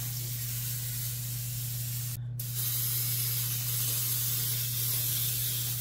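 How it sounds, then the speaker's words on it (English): Aerosol cooking spray can coating a cake pan for a fudgy Coca-Cola chocolate cake: a steady, close hiss that runs nearly unbroken, cutting out for a split second before resuming, over a constant low hum in a kitchen. "I'm just gonna spray this pan down."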